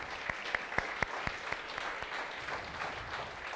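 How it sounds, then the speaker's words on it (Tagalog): A church congregation claps for Jesus during a Sunday sermon, opening with several sharp, evenly spaced claps that give way to a quieter, scattered patter of applause further back in the room. "At lahat na naniniwala ay pumalakpak ng the best kay Jesus."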